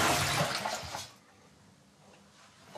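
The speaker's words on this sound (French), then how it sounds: "C'est comme ça que je tire la chasse." A toilet in a run-down bathroom with no working flush or electricity is flushed by hand: a loud rush of water for about a second, then it drains away to near silence.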